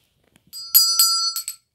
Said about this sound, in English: ring the notification bell for all notifications